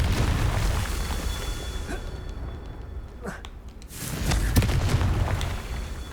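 Confringo blasting spell explosions from the video game Hogwarts Legacy: dull booms and bursts over a dense game soundscape, easing midway, then swelling again with a sharp blast.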